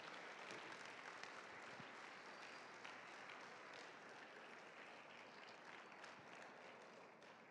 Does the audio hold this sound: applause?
yes